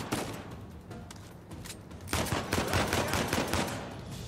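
Gunfire bursts in Uncharted 4, including shotgun blasts, crackle loudly and repeatedly through a busy game battle, thickening into rapid volleys in the second half.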